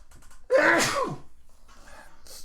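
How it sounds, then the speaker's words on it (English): One loud, close human sneeze bursts out after a brief quiet breath, followed by faint rustling and a short sniff. "I gotta sneeze"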